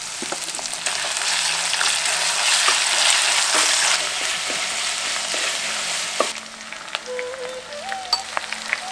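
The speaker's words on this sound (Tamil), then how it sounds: "சின்ன வெங்காயத்தை நல்லா வதக்கிட்டு அரைச்சு வச்சிருந்த இஞ்சி பூண்டை சேர்த்துக்குவோம்" Shallots and ginger garlic paste sauté in a hot pan with a dense, steady sizzle and occasional stirring clinks. The frying is close and continuous, easing slightly toward the end.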